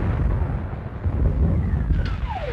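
Distant artillery guns of an army rumble in a low, continuous booming roll, muffled and far off, with a faint higher whine sliding down near the end.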